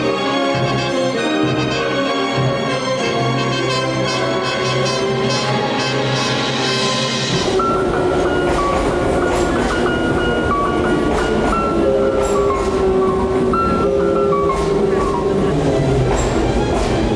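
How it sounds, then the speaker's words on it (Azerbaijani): A metro train pulls into an underground station in Baku, a loud rumbling roar and rail clatter that shifts pitch as it slows, with tonal music and voices over it. "Qatar stansiyaya çatarkən"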